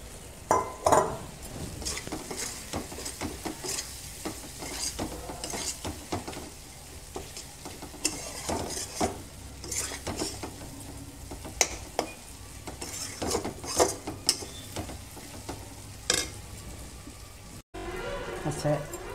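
Potatoes tipped into a hot frying pan for a Bengali chana dal dhoka curry, stirred with a utensil through steady sizzling, with scraping and clinks of the pan and some talk over the cooking.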